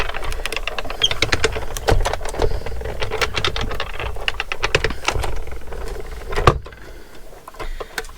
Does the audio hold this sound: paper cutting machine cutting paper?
yes